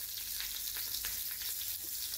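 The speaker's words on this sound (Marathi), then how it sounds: "आपण इथे ताकाला तूप मिरची फोडणी देणार आहोत। त्यासाठी आपण तूप गरम केलंय" A green chilli tempering sizzles in hot ghee, meant for buttermilk, a soft, steady crackling fry with faint stirring ticks, quiet and close, with no talk.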